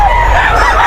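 A stag rooster at the Bocaue pet market lets out a short, loud, close crow.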